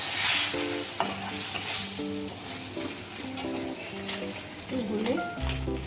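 Turmeric, Kashmiri chili and hot red chili powders sizzle and fry in a pan while a spoon stirs and scrapes in short strokes, close up, with someone talking over the cooking sounds.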